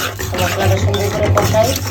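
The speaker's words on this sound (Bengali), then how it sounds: "মশলা সুন্দর করে ভাজা ভাজা হয়ে গেছে" Masala paste of ginger and garlic with cumin being stirred and fried in a pan, a close, steady sizzle with scraping of a spoon against the metal.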